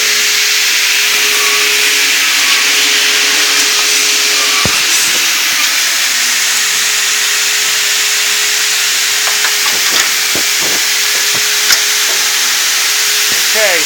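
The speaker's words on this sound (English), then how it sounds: "I'm just going to trim this piece of casing off real quick." A trim saw cuts through a piece of wood casing, a loud, steady high-pitched whine running throughout with a few brief sharper ticks and scrapes near the middle and end.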